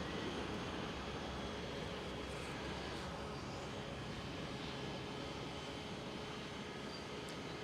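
An ITA Airways airliner passes at Schiphol airport as a steady, broad, moderately distant engine roar that stays level across the whole stretch with no talk.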